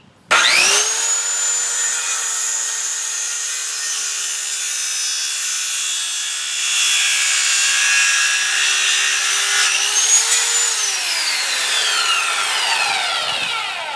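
Circular saw cutting a 45-degree angle through wood for a picnic table repair, the motor spinning up to a loud whine, grinding steadily through the board and winding down at the end.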